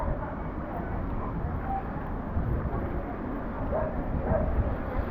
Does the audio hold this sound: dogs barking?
yes